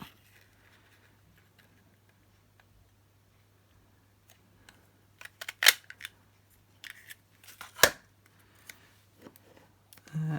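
Scissors cut a paper figure into a circle, sounding as sparse, close snips and clicks with a few sharper cuts near the middle and end over a quiet, faintly humming background.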